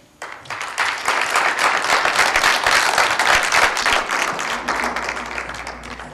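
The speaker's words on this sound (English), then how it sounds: "please refrain from outbursts of applauding" An audience bursts into applause at a city council meeting, a dense wave of clapping that rises quickly, holds strong for several seconds and then gradually thins out, loud and close.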